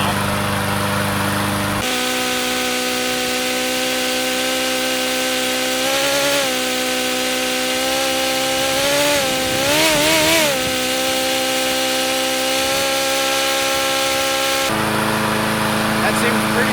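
Craftsman push mower engine running steadily at a loud, close, buzzing drone, its pitch wavering as the throttle shifts around the middle, with a brief change in tone at the start and end.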